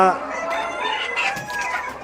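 A Kadaknath rooster crows loudly and close by, a single drawn-out call with clucking fowl around it.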